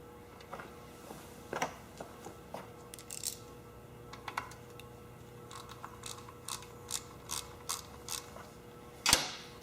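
A ground-down 9/32 socket works loose the needle and seat of a Tecumseh diaphragm carburetor, giving faint, scattered metallic ticks and ratchet-like clicks close by, ending with one sharper clack.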